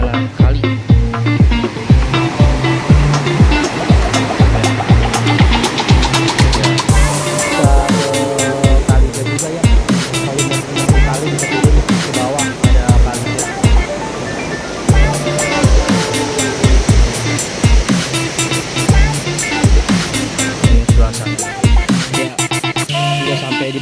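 A river rushes steadily beside a campsite at Cabin Geulis, its loud, dense roar continuous and close, with a faint rhythmic pulsing running through the flow and no voices.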